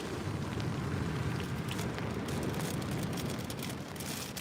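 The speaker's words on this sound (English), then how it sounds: "Oh, why is it raining?" Steady rain falls at the seaside in Bournemouth, a dense, even hiss of drops pattering on surfaces with a low rumble beneath, continuous and fairly close, with no voices.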